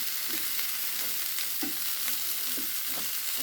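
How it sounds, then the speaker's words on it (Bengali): Whole onions fry gently in a pan with pointed gourd and pumpkin, giving a steady, soft sizzle with occasional stirring scrapes, no voices. "অনেক ভাজা যাবে না, একটু নরম নরম করে ভাজতে হবে।"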